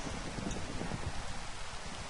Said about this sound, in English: Now that it's actually raining